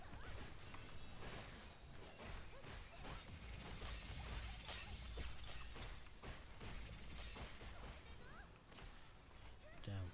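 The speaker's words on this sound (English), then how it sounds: "Damn, so many shield shatters." Shields shattering in the Blue Protocol video game, a dense run of glassy crashes and bursts over busy combat noise, with a voice talking throughout.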